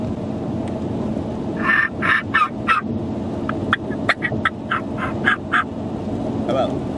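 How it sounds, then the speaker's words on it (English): Two hen turkeys calling in agitation, a series of sharp, clustered yelps and clucks bursting out one after another from close by over steady background noise. "We have two mad hens here."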